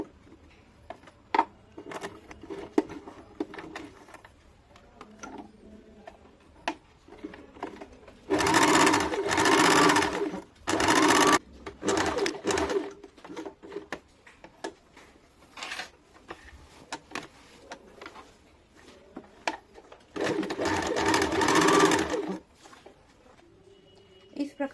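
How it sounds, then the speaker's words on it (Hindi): Domestic sewing machine stitching the side seam of a deep-neck kurti, two sustained loud runs of whirring stitching separated by quieter handling noises and brief short bursts. "साइड से हम लोग एक और सिलाई डाल देंगे।"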